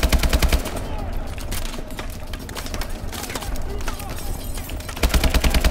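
Rapid automatic gunfire in Call of Duty Advanced Warfare, loud rhythmic bursts at the start and end with busy combat noise between, while someone talks over it.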